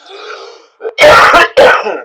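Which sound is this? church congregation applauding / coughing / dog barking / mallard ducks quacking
coughing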